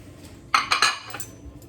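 A utensil stirs warm roasted root vegetables with a garlic and lemon zest dressing, giving a short cluster of bright clinks and scrapes against the dish, fairly close and clear, with no talking.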